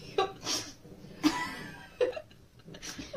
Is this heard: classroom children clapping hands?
no